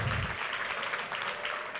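Congregation applause in a church service follows a call to praise God, a dense, steady wash of many hands clapping at moderate loudness for nearly two seconds, with a brief low voice at the very start.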